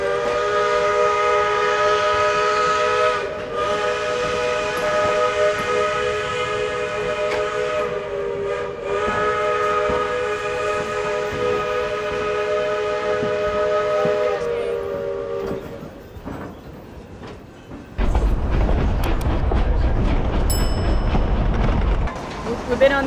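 A steam train in Durango, Colorado sounds a long, loud, steady whistle for about fifteen seconds, then falls quieter before heavy rumbling and chuffing of the moving train take over near the end.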